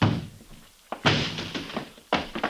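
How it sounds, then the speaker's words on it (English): Door being forced open in a 1950s science-fiction radio drama: a few heavy wooden thuds and crashing impacts, each loud and close, separated by short pauses. "Break down the door."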